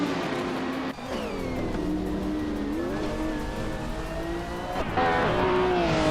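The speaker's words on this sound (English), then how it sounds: "Drevo 192X is racing a vintage ultralights car from 1966, and they're currently in 11th place" A vintage 1966 ultralight race car in a racing video game, its engine droning steadily at high revs with pitch shifts as it changes gear, loud and continuous.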